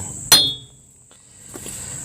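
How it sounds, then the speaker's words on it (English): A hammer strikes a vehicle drive shaft once with a sharp metallic clank that rings briefly, followed by a fainter second knock in a quiet workshop. "I'll take my hammer again and tap it there"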